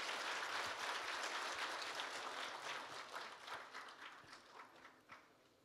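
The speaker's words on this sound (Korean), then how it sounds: "두 분께 다시 한번 뜨거운 박수 부탁드리겠습니다." Sustained audience applause fills a hall at a 2015 Jeju Forum culture session, steady and dense at first, then thinning and fading toward the end.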